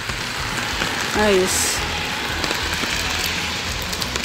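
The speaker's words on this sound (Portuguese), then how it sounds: "Gente, tá uma chuvarada." Heavy rain pours steadily outdoors as a dense, continuous hiss, and a person says a few words close by over the downpour.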